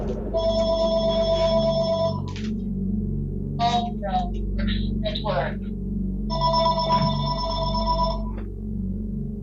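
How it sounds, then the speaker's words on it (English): A telephone rings in repeated bursts of bright trilling tones, two long ring cycles with a short electronic chirp sequence between them, heard at moderate level over a steady low hum during Metroid Prime gameplay. "The phone."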